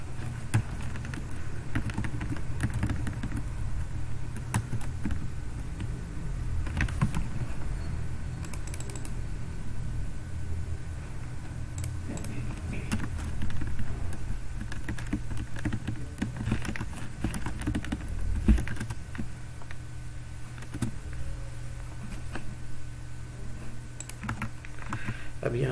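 Typing on a computer keyboard during a PowerPoint lesson, steady quick key clicks running through the whole stretch under a constant low hum, fairly close, with no clear speech.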